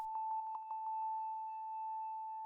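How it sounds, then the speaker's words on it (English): A pure synth sine tone in an emo trap beat plays a quick run of short repeated notes, then holds and rings out in a soft, lingering reverb tail. "it's just like a sine wave with some reverb on it"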